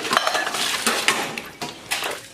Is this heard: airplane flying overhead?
no